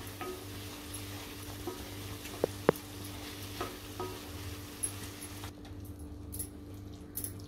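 Steady low sizzling and bubbling from a pan of masala for matar paneer as its water cooks off, with a couple of sharp metallic clicks partway through. The sound cuts off near the end. No one speaks.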